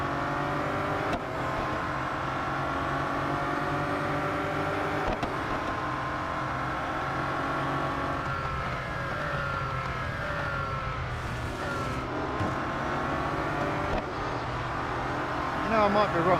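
Bugatti Centodieci race car engine in the Real Racing 3 mobile game, a continuous engine drone with rising and falling rev tones as it shifts through gears, heard under ongoing commentary from someone talking over it.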